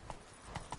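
A horse's hooves clop three times in quick succession, faint and close, as it gallops in the video game Witcher 3.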